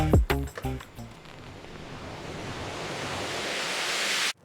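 After a few thumping beats, a hiss of white noise swells steadily brighter and louder for several seconds, then cuts off abruptly.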